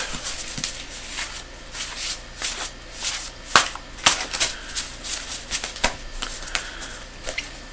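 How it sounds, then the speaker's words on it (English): Cards being shuffled up close, a run of quick riffling bursts and crisp flicks and snaps, irregular and fairly loud, with no voices. "Shuffle them up."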